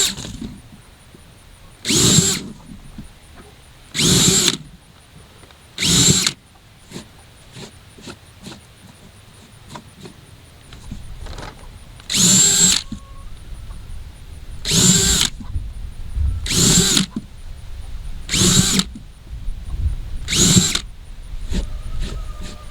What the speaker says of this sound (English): so we're gonna drill one right there